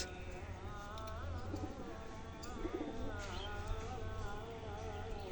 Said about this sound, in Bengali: চলেন আমার টুর্নামেন্টের পায়রাগুলো এটা দেখাই